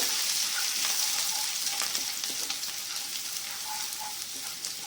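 Minced garlic and ginger fry in a pan with a steady, dense sizzle and crackle, occasional light stirring clicks over the top, close and constant throughout with no talking.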